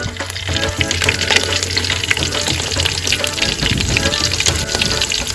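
Onion goes into a hot pan for a sardine curry and fries with a loud, dense sizzle and crackle that continues steadily the whole time, close up.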